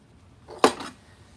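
A single close metallic clank as a cleaned pot used for chili is turned upside down onto a stove, one brief ringing knock in an otherwise quiet kitchen.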